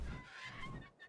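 A pteranodon call from the Ark Survival Evolved video game, a harsh honking, goose-like cry that is fairly loud and sustained across the short moment, with no talking over it.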